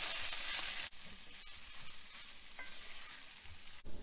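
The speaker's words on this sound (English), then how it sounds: "Brown your meat first. Kind of break that up." Vegan ground meat browns in a frying pan, a steady close sizzle with scraping and stirring as it is broken up, and no talking.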